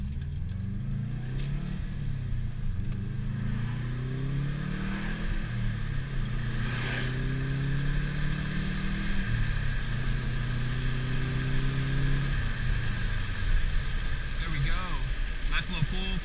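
A 2002 Subaru WRX bugeye accelerates through the gears, its engine note rising and dropping with each shift in a steady, fairly loud in-cabin drone, with a voice speaking briefly over it.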